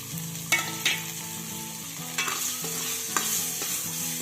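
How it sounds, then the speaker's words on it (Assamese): Chopped onions hit hot oil with turmeric in a clay wok over a high gas flame, sizzling steadily and loudly while a spatula scrapes and clinks against the pot several times. "ইয়াত মই এতিয়া কাটি থোৱা পিঁয়াজখিনি দি দিম"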